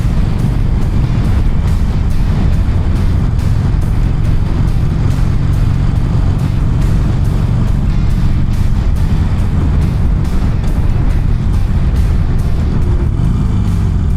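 A Harley-Davidson Iron 883 motorcycle on the move, a loud, constant low engine rumble mixed with wind roar that holds steady throughout with no talk.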